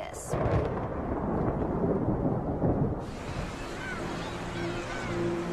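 Thunder rolls through a storm in southwest Florida, a loud sustained rumble that gives way to a quieter, steady wash like rain, with no voices.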